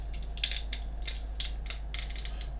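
Plastic parts of a Bandai 1/72 X-Wing model kit are pressed together in a run of about ten small, crisp clicks at an uneven pace, close and fairly quiet over a low steady hum.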